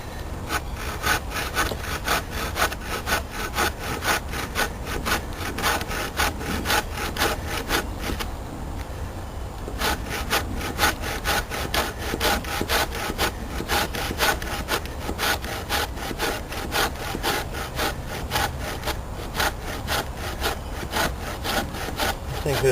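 A Gerber hand saw cuts through poplar wood in a steady rhythm of rasping push-pull strokes, close and loud, with a short pause near the middle before sawing resumes.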